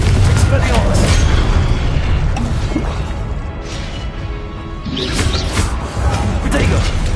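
Confringo blasting spells cast in the video game Hogwarts Legacy, heavy booms and crashing impacts rolling nearly continuously, with a brief lull in the middle before a fresh loud burst.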